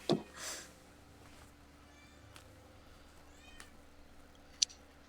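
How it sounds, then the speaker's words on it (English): An annoyed cat meows from upstairs in a house, giving a few faint, distant cries spaced apart, with a sharp click or two between them. "I've got a cat that's ticked off at me that she's upstairs right now, and I'm not letting her out"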